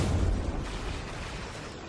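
Dense, roaring explosions and weapon fire fill a battle on Cybertron in Transformers War for Cybertron as Optimus shoots, a continuous heavy rumble with strong low booms at the start, loud and without pause.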